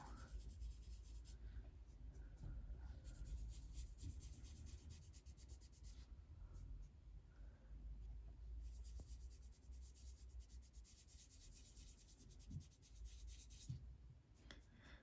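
A pencil colouring in an adult colouring book, a faint continuous scratchy rubbing on paper in quiet strokes with brief pauses, close and alone.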